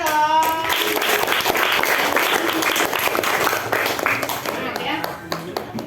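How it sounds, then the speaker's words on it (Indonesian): A classroom breaks into applause for a student group that has just presented, beginning with a voice and then settling into a dense, steady clatter of many hands that slowly thins toward the end. "Tepuk tangan dong."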